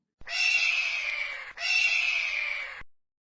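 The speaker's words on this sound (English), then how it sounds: "Eagle." An eagle lets out two long, shrill screeching calls, each about a second and a half, loud and close with nothing else heard.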